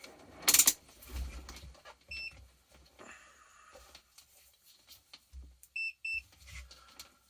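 Multimeter continuity beeps while probing cut traces on a Chinese temperature controller board, heard as a few short, clear high tones near 5.9–6.2 seconds among handling noises and light clunks, with no talk.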